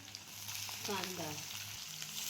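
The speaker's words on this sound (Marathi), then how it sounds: "आता मस्त आपल्याला हे परतून घ्यायचं आहे." Chopped onion sizzles and crackles steadily as it sautés in hot oil with cumin and mustard seeds, a close, constant frying hiss with light stirring and faint talk in the background.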